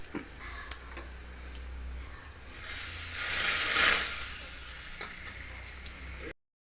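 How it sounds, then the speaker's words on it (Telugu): Bitter gourd pieces fry in a pan with a soft, continuous sizzle that swells louder midway, with occasional light ticks and stirring sounds and no voices. "ముక్కలు వేగిపోయాయి చక్కగా"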